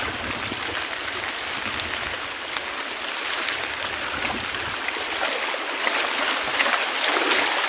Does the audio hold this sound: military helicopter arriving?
no